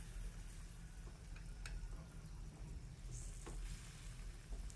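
Fried tofu sizzles steadily in a pan over medium heat, a dense continuous crackle and hiss with small pops throughout, close and fairly loud, no talking.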